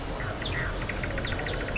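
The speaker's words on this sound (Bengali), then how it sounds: "ডাকতেছে সুন্দর করে। এই পাখির এই ডাকগুলোই আসলে" Small birds chirp and twitter nearby in quick, overlapping high-pitched calls, with a steady low background hum.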